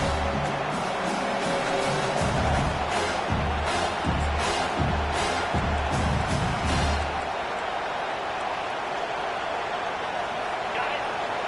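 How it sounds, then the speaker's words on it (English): A college football stadium crowd keeps up a steady, loud, broad roar throughout, with a commentator talking over it. "This crowd trying to make life miserable for this offense."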